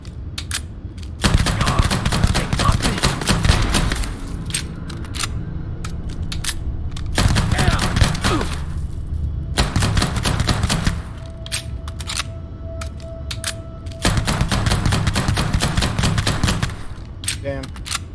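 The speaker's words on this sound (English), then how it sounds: "I'm taking heavy fire!" Heavy automatic gunfire in a Starfield firefight comes in several loud, rapid bursts separated by short lulls, close and harsh, with a brief tonal beep between volleys.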